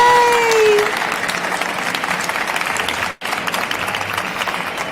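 A crowd at a Stage Expo talk breaks into sustained applause, dense and steady clapping that is loud and close, with a brief cut partway through and a few cheers rising over it.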